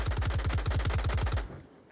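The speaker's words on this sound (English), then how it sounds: "More gunshots being made as Dida also locates Deadshot." Rapid automatic gunfire in Onward VR during a competitive match, a steady burst of about twelve shots lasting roughly a second and a half, loud and close, then a fading tail.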